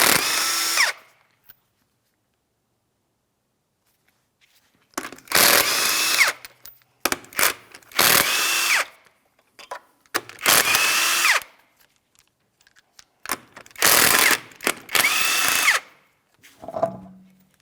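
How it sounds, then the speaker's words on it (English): Power tool spinning off 19mm lug nuts from a wheel of a 2007-2014 Ford Edge, loud close bursts of whirring and rattling in several separate runs with short silent gaps between. "We're using a 19mm for each of these lug nuts so we can remove the wheel."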